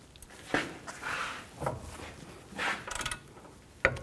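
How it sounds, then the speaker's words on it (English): An 18mm socket ratchet loosens a nut on the upper control arm of a 2007-2014 GMC Sierra 3500HD, giving several short, close mechanical clicks and clunks in quiet surroundings. "Now loosen this nut up. Use an 18mm socket."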